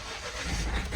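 A Lamborghini's engine catches and starts in the cold in Manali, a loud, close, rising mechanical roar filling the whole moment without any voices.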